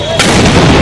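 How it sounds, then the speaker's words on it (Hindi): An explosion goes off on a street in Uttar Pradesh with police present, a sudden loud close blast that bursts in abruptly and roars on without a break. "देखिए विस्फोट होगा उसमें"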